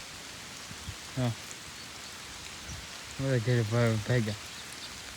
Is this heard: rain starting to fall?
yes